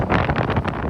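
Wind buffets a microphone outdoors beside an alpine lake on a mild October day, making a brief, rumbling rush of uneven gusts.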